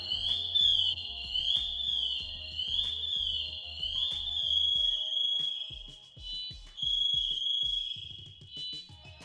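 Firefighter's backpack distress alarm signalling a hurt or lost firefighter, a shrill high warbling electronic tone pulsing in rising sweeps over low thumps and clatter, fairly faint and with no talking.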